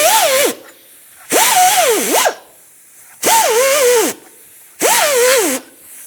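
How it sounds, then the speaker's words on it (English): A Scotch-Brite pad spun by a power tool scrubs the brake hub surface of a 2012-2018 Nissan Altima, giving four separate whirring bursts that rise and fall in pitch, each under a second long, with short quiet gaps between them. "Now I'm just going to use my Scotch-Brite that has the hole for the lug nuts,"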